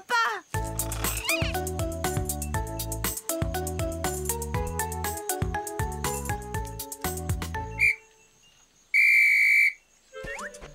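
Zigby the cartoon postman blows a whistle: one long, loud, steady high toot near the end, following bright cartoon music and playful squeaks.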